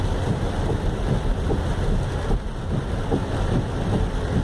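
Heavy rain pours down on Avenida Ipiranga in Porto Alegre. It makes a dense, steady roar with wind buffeting the microphone and low rumbling throughout, and no one speaks.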